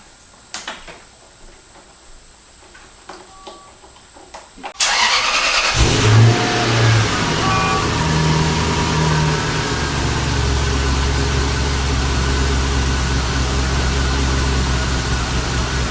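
Quiet clicking and faint sounds, then a Lexus GS400 engine cranks and catches after an oxygen sensor replacement and battery reconnection, settling into a loud, slightly rough idle that keeps running nearby.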